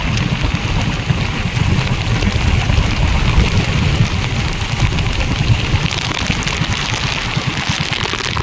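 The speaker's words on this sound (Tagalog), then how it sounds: "Lakas ang ulan." Heavy rain pours steadily onto a fishing boat at sea during a squid-fishing trip, a dense, continuous hiss with gusts of wind and no voices.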